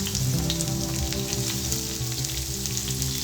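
Cumin, mustard seeds, green and dried red chilies and chopped onion fry in hot oil, giving a steady, close, dense sizzle with faint crackles throughout and no voices.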